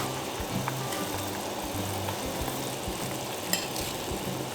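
Onions sizzle steadily in a pot of Korean braised short ribs over the fire, a continuous close frying hiss with soft bubbling and a brief clink near the end.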